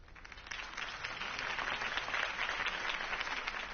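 Video game crowd applause swelling into steady clapping and cheering, moderately loud, with no talking over it.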